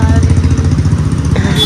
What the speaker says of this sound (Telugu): ఇప్పుడు వస్తున్నారు బైక్స్ అన్ని తీసుకొని